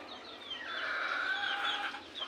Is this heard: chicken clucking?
yes